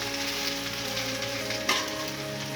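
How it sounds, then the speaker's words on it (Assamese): Jujubes frying with jaggery in a pan for a sweet Assamese pickle, a steady close sizzle over low heat with a brief stirring scrape partway through. "আমি আকৌ আগত যেনেকৈ ভাজি আছোঁ তেনেদৰে ভাজিব লাগিব অলপ টাইম"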